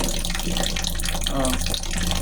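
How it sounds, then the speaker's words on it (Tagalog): A weak, thin trickle of water runs from a household tap on a PrimeWater supply, steady and close with a low background hum throughout. "Hindi po ganyan ang tulo ng tubig dito."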